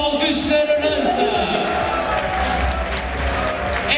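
Audience applause for the winner of a Cyprus top model beauty contest, steady clapping under crowd noise and music, with voices heard among it.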